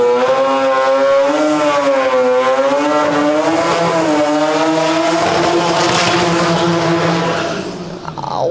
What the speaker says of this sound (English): I thought he was gonna rev it all the way to the end of the track